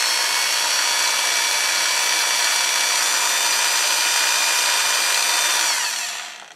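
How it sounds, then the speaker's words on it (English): A variable speed power drill whines steadily at one constant speed, loud and close, then winds down at the end. "you can run the drill at a constant speed"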